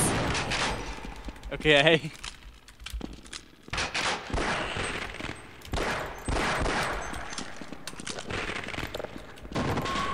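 Rapid bursts of automatic gunfire and sharp shots in the video game Half-Life: Decay, loud and clustered in several volleys, with a player's voice briefly talking between them.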